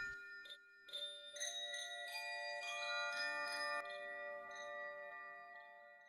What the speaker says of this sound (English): Just then, the chime swayed, emitting soft, melodious sounds.